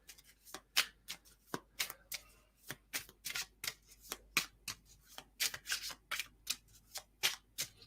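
Deck of cards shuffled by hand close up, with repeated soft riffling and rubbing bursts in a steady, uneven rhythm and fairly quiet overall, ending as a card is drawn.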